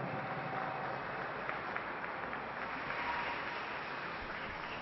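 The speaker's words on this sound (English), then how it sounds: "Let's have a round of applause" An audience at a teen bowling championship claps in a dense, steady wash of applause that holds evenly throughout, slightly distant with no talk over it.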